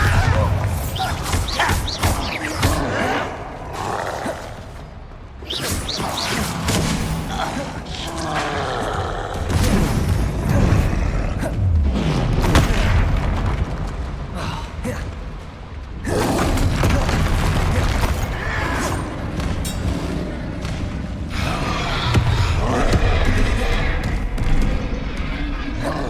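Bombarda blasting spells in the video game Hogwarts Legacy, a barrage of loud booming explosions, thuds and crashing debris over game music and effects, rising and falling in waves with short quieter gaps.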